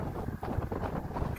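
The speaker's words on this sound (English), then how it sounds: "Pretty windy right now." Gusty wind buffets the microphone with a low, rumbling roar that rises and falls over a short stretch.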